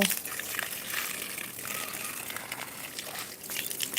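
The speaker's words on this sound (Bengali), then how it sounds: "প্রতিটা গাছে আমি পানি দিচ্ছি" Water pours and splashes onto sun-dried garden plants, a soft uneven gushing and trickling with leafy rustling, fairly quiet, while someone talks over it.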